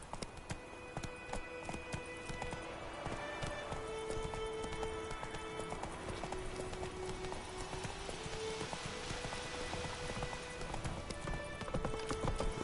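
Roach, Geralt's horse in The Witcher 3, gallops in a steady rapid clip-clop of hooves over a continuous bed of game music, the rhythm holding throughout without pause.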